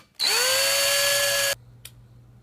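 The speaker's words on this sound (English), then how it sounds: "and now I'll drill through the backside." Power drill spinning up and boring through clamped wood frame pieces for about one and a half seconds, loud and close, then stopping, followed by a brief tap.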